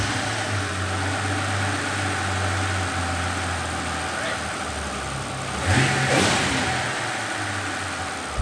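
Mercedes CL65 AMG engine running steadily on a drive, a continuous mid-pitched drone that swells briefly louder as the car accelerates partway through, heard alone.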